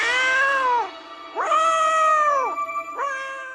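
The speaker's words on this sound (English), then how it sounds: "the first thing he does is he puts a cat in a tree, and the cat yowls for, I would estimate, about 10 minutes straight" A cat stuck up a tree in a TV show yowls loudly and close, giving three long, drawn-out wailing cries with short gaps between them.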